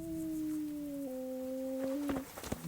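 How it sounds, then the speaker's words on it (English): A dog howling in the Kingdom Come: Deliverance video game: one long, steady mid-pitched howl that slowly sags in pitch, fairly clear over quiet ambience, with a few soft knocks near the end. "This dog howling is driving me nuts."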